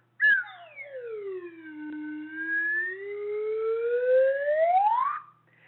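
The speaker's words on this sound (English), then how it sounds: "a metal slide whistle that sounds like this" A metal slide whistle sounds one long continuous tone for about five seconds, swooping down sharply, holding low, then gliding steadily upward to a high finish, clear and close with no talking.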